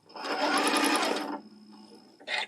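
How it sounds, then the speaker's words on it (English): Sewing machine stitching slowly on a table runner with circles, a short steady run of stitches that stops after about a second and a half, followed by a faint mechanical click. "we don't sew really fast when we're doing this. So we're only doing, 12 or 15 stitches"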